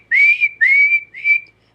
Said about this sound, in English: they blow these little eagle whistles that are made out of eagle bone. And it's a little shrill whistle